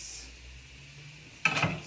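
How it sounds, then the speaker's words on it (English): Onions dropped into a hot pan while making red sauce give a sudden loud sizzle that starts partway through and keeps crackling after quieter kitchen sounds. "Okay, so I'm gonna put in my onions. The sound you want to hear."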